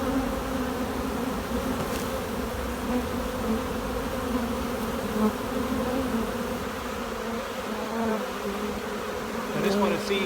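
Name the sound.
honeybees being shaken into a tub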